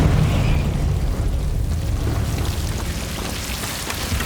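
A Confringo fire spell detonates in Hogwarts Legacy, producing a loud, heavy blast followed by a sustained low rumble and crackling debris hiss.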